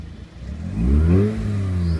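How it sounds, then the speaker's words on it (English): A 2004 Mazda RX8 rotary engine revs up loud and close, the pitch climbing in a smooth rising whine, then holding high and steady, with no talking. "let's just let you hear the sound of the engine."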